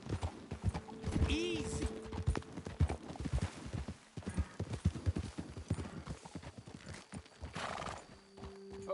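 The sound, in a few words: horse hooves in Red Dead Redemption 2 video game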